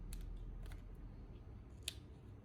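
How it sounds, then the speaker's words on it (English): Scissors snip through paper while trimming a craft embellishment on a shabby chic tag, giving a few quiet, short cutting clicks spaced apart, with one sharper snip near the end over a soft background hiss. "Just going to snip that there."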